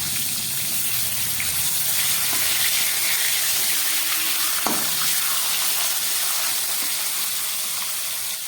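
Close, loud frying as fish cooks in a pan: a dense, steady sizzle and hiss with no letup, marked by a single sharp clack near the middle and no speech.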